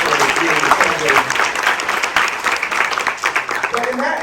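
Breakfast-event audience applauding a former state senator and current councilman, a sustained burst of many hands clapping that thins toward the end, with a speaker's voice running over it.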